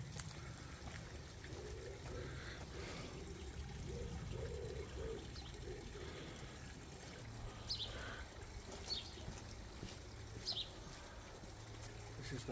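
Water pours steadily into an inflatable Lazy Spa hot tub, a continuous soft trickle and splash heard at some distance, with faint birdsong in the background.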